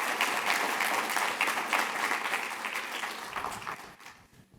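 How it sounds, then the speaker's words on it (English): A crowd at a Connect17 series event breaks into dense, steady applause that gradually thins and fades out toward the end. "Let's give a big round of applause for John."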